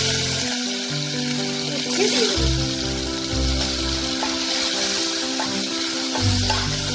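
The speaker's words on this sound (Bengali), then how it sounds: "উচ্ছেটাকেও আমি লাল করে ভেজে নেব।" Bitter gourd strips fry in hot oil seasoned with turmeric and salt, giving a soft, continuous sizzle over a low, uneven rumble, with no talking.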